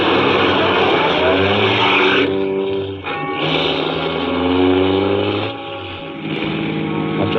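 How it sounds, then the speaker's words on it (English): A car engine drones steadily as the car drives along a road in a suspense radio drama, a loud, close hum whose pitch dips and rises with brief changes in speed. "After I got the car back on the road again"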